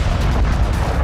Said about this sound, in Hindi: पहला विस्फोट